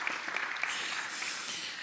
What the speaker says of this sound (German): Und ihr könnt auch gerne klatschen.